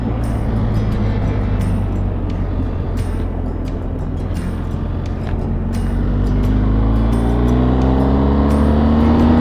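A motorbike rides along the Barry Way, its engine droning loud and steady, then climbing in pitch as it accelerates, with wind buffeting throughout.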